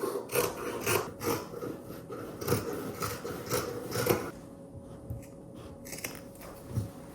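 Scissors cutting through fabric for a 360-degree circle skirt: a run of rhythmic, crisp snipping and sliding strokes nearby for about four seconds, then a quieter pause with a final snip or two.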